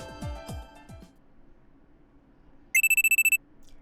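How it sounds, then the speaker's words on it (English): A loud electronic alarm in the visual novel Steins;Gate sounds as a rapid burst of about eight sharp beeping pulses, following fading chime-like tones and a quiet pause. "a loud alarm rings in my ears"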